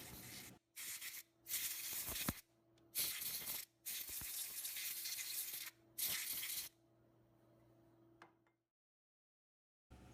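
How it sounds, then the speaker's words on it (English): A compressed air can blasts dust from the rotary hook of a Redline embroidery machine in several sharp hissing bursts of about a second each, close and loud, separated by brief pauses, then silence. "Using a compressed air can, blow all the dust from the rotary hook."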